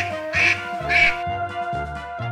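A duck quacks in a short series, two louder nasal quacks followed by softer ones, close and clear with no voices over them.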